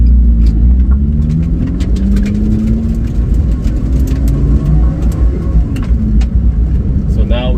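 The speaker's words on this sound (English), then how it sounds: "I'm now going on a quick drive to test out the exhaust button that Luan helped me install, just to hear the exhaust" A supercharged V6 Lotus Exige on the move, exhaust valve control fitted, gives a loud, continuous engine drone with a slowly rising tone throughout.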